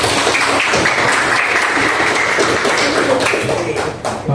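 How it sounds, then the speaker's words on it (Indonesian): Applause from a school class, a dense burst of clapping from many hands, loud and close, lasting a few seconds and thinning out at the end. "Oke, tepuk tangan semua."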